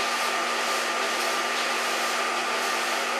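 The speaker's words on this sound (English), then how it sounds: "Start in the center with blow drying." A hair dryer runs steadily while blow drying hair into a mohawk, a constant loud broadband whoosh with a faint motor whine and no breaks or voices.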